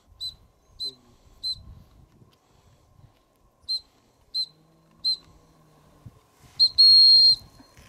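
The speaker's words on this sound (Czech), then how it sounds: "A teď pískej." A dog handler in training whistles to call a dog, giving short high whistle blips in quick groups of three, then a longer, louder final whistle. Quiet shuffling and faint speech sit in the gaps.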